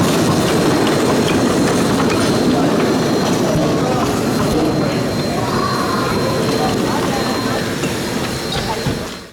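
A steam locomotive on the Christmas Candy Cane Express pulls a train past the Hesston depot, a loud continuous rumble of wheels and cars rolling close by, with rhythmic clatter and faint squeal, fading slightly at the end.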